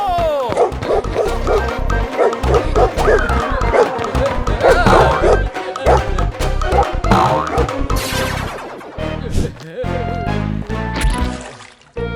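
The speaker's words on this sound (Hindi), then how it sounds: "अरे कोई मुझे इस कुत्ते से बचाओ!" Cartoon dog barks in a rapid run of sharp, bouncy yaps mixed with comic sound effects, loud and close, with a character shouting in panic over the barking.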